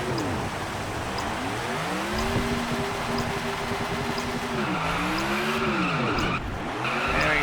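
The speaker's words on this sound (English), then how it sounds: "And now you do a burnout segment, which can also earn you extra experience points." A stock race car in the NASCAR 2011 video game does a burnout, its engine revving in rising and falling sweeps over a continuous loud tire squeal, with no voices.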